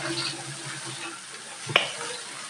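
Noodles with chicken, egg and capsicum stir-fried in a pan, giving a soft steady sizzle and scraping with one sharp clack of a utensil midway, no talking.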